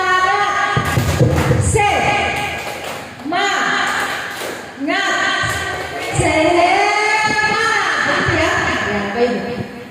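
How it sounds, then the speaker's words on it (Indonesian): A class performs the 'tepuk semangat' spirit clapping chant, with bursts of rhythmic group clapping and loud chanted voices in several short rounds, close and lively. "Tepuk semangat"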